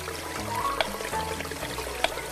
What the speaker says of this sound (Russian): Кран.